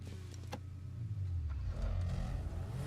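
A car engine in Grand Theft Auto V revs and accelerates during a drag race, a steady low growl building louder after the first second and holding strong, with a brief sharp click early on.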